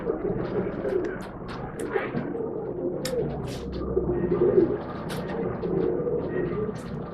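Racing pigeons coo steadily in a pet shop in Bangalore, soft repeated low calls over a constant murmur of background room noise and faint distant voices.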